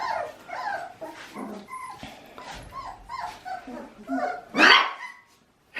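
A Portuguese water dog puppy about four weeks old gives a string of high, close yips and little barks, with whimpers in between and one louder bark near the end before it falls quiet.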